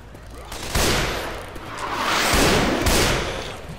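Gunfire in the video game Left 4 Dead 2, heavy bursts of shots and booming rumbles swelling and fading in waves, loud and close.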